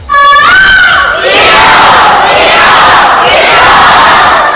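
Children at an Onam celebration let out a loud, sustained shout and cheer together, a crowd roar that begins with a rising yell and stays strong to the end.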